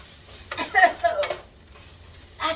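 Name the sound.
stirring fresh onions in a pan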